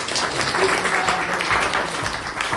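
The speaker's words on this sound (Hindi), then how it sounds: "चलो इसके लिए भी जोरदार ताली बजाओ" Classroom students clap loudly together during a biology lesson, a dense, even burst of applause filling the room.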